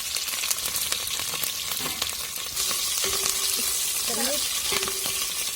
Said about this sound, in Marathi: त्याच्यानंतर आपल्याला लगेच मिरची टाकून घ्यायची